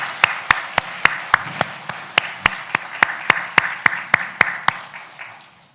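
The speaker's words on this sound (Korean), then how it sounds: "우리 하나님 앞에 감사와 영광의 박수를 함께 올려드리도록 하겠습니다." A church congregation claps in a steady, evenly spaced rhythm during a Sunday morning service, with about twenty sharp, loud, unison claps that fade out toward the end.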